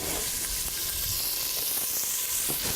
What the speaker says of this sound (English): Give that a couple good stirs.